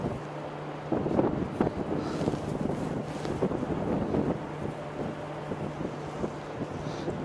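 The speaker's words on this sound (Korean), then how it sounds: "역시 바람이 너무 많이 불어" Strong wind buffeting the microphone at Sinjindo fishing port in Taean on the west coast, a continuous roaring rush with gusting swells and low rumble throughout, no talk.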